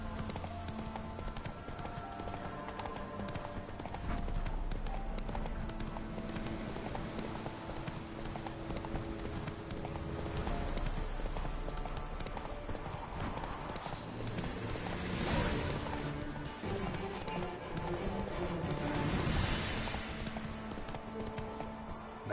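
Roach, the horse in the video game The Witcher 3, pounds out a steady, rhythmic run of hoofbeats with occasional whinnies over game music.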